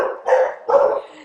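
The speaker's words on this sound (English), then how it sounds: "My dogs go stark raving mad when someone knocks on the door" Two sharp, close barks from excited dogs reacting to a knock at the door, coming in quick succession and then fading.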